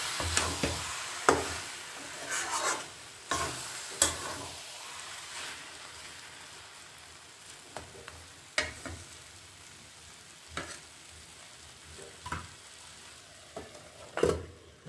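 A fish head and cabbage curry is stirred in a pan, with a quiet background simmer punctuated by periodic louder scrapes and knocks of the spoon against the pan every second or two.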